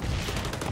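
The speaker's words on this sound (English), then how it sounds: "Got him with the grenade." An explosion or burst of gunfire in the online shooter XDefiant, dense and steady across a short moment, loud and close, with no voices over it.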